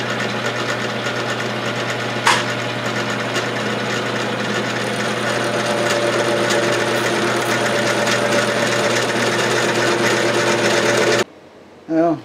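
A gear-cutting machine steadily milling teeth into a gear blank in a home workshop, a continuous droning whir with a sharp knock near the start, cutting off abruptly near the end.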